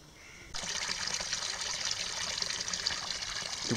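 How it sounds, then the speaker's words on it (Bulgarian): Spring water on Vitosha mountain running into a bottle as it fills, a steady close splashing stream that starts abruptly after a quiet moment and carries on without talk. "Тук що си наточих баш Витошка вода"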